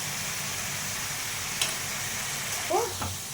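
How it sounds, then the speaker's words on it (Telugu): Drumsticks and fish curry sizzle in hot oil in a pan, a steady close frying hiss with a brief clink and faint stirring scrapes near the end. "నూనెలో ఇట్లాగే కలిపెట్టి కాసేపు బాగా మగ్గనిస్తే బాగుంటుంది."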